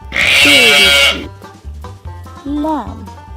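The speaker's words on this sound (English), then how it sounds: "Lamb." A lamb bleats loudly for about a second, then a second shorter wavering bleat follows after a pause, with a faint low voice briefly in between.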